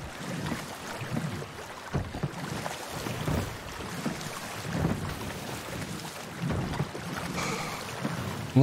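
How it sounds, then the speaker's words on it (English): Water rushing and waves washing steadily around a sailing ship on open sea in the Sea of Thieves video game, a continuous low surging wash with no talk. "You can hear the water."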